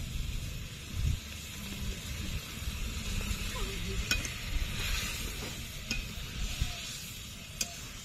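Fried prawns tipped into a pan of simmering liquid for a Bengali prawn malai curry, soft sizzling and bubbling under stirring scrapes, with a few clinks and a low thump early on.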